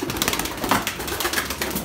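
Pigeons in a flock handled by a Turkish pigeon fancier, with soft irregular fluttering and cooing-like bird sounds close by, no talk over them.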